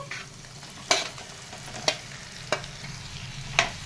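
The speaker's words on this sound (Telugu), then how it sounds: "ఇప్పుడు మనం ఉడికించిన లివర్ వేసుకుందామండి" Boiled liver goes into chili powder frying in a pan. A steady sizzle runs close throughout, broken by four sharp scraping clinks as a spoon stirs.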